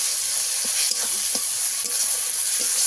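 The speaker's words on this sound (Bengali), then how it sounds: "সমস্ত মশলা আমি ভালো মতো কষিয়ে নেব।" Ground spices with cumin paste and coriander powder frying in a pan for a fish curry, giving a constant close hiss of sizzling oil with a few soft stirring scrapes, and no talking.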